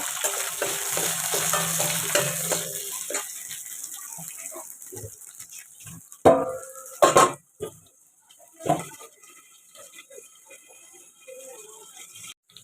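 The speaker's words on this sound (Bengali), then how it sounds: "আলুটা একটু ভেজে নেব" Potatoes fry in a kadai in a home kitchen, a dense sizzle for the first few seconds, then fading into quieter crackle broken by a few sharp metallic clanks and scrapes of stirring.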